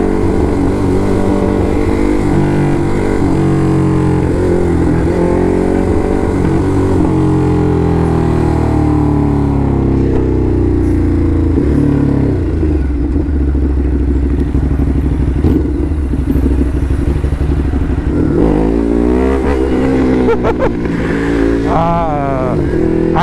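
A motorcycle ridden on the West Side Highway, its engine droning loud and close with rising and falling revs as it accelerates through the gears, wind and road noise steady throughout.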